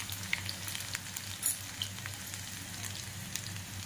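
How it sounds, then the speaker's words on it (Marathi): Chopped garlic and cumin seeds fry in hot oil in a pan, a steady dense sizzle with fine crackles and pops running evenly throughout, close and moderately loud. "लसूण थोडा आपला लाल चांगला तेलामध्ये फ्राय होईपर्यंत चांगला फ्राय होऊन द्यायचा"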